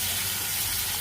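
Spice paste of turmeric, coriander and chilli powder frying in a pan for Bengali cooking, giving a steady, dense sizzle throughout with no pauses or voices.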